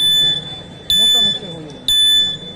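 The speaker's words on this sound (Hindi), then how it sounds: "अंतिम 4 मिनट का इशारा भी हो रहा है" Electronic buzzer at a kabaddi match sounds in repeated steady tones marking the final four minutes, heard loud under continuous commentary in an indoor venue with floodlights.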